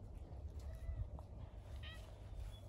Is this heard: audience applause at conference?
no